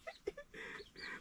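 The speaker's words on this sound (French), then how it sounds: "c'est un cocorico qui est là" Chickens on a small home farm cluck and call in a few short bursts, with one longer crowing-like call near the end, close and moderately loud.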